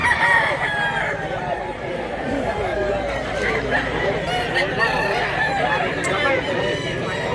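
Roosters crowing amid a busy rural poultry market in Mantalungon, Cebu, with clucking chickens and people chattering throughout.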